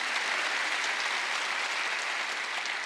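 A church congregation applauding during a Wednesday worship sermon, a steady wash of many hands clapping, even and sustained, moderately distant and soft.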